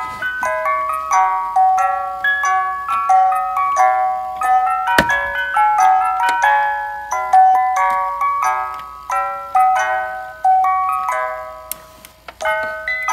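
A Fisher-Price music box record player chimes out Humpty Dumpty, bright plucked metallic notes in a steady repeating melody, close and clear with a faint mechanical tick between phrases.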